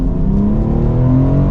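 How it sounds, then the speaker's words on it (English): A 2023 BMW X3 M Competition accelerating, a loud, close engine note rising smoothly in pitch from inside the cabin with a continuous deep exhaust drone. "Let's give it another acceleration though and drive."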